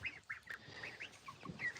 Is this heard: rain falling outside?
no